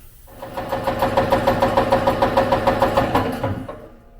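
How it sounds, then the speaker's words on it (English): A reciprocating shop air compressor pumps up pressure with a loud, steady, rapid thumping chug that runs for several seconds and then cuts off. "We do have ourselves a working air compressor."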